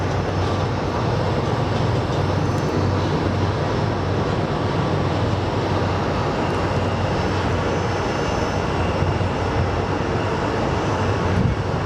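A JetBlue airliner on approach to Sky Harbor International Airport gives a continuous broadband engine rumble, fairly loud and steady throughout, with no talking.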